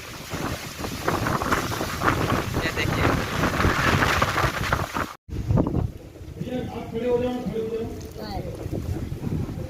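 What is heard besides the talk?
strong windstorm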